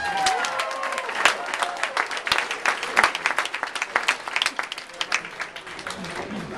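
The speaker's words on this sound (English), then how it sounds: "Round of applause for the Ferreira All-Stars." Crowd at a Special Olympics bowling tournament claps for a team being announced, sharp individual claps building into a lively burst and then tapering, with scattered voices underneath.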